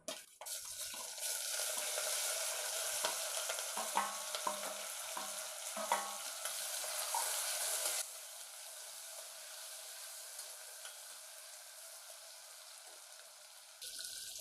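Vegetables for khichdi frying in a hot pan give a steady, loud sizzle with occasional stirring clinks and scrapes; the hiss drops to a quieter, even level partway through and continues without talk.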